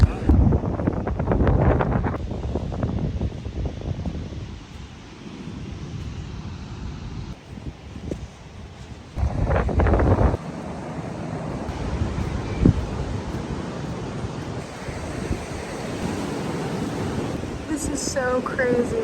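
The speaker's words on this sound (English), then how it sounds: "the waves crash over and it gets bubbly like champagne" Surf crashes and fizzes onto the sand at Champagne Beach in Australia, heavy roaring bursts rising and falling over gusty wind noise, with a person talking at times.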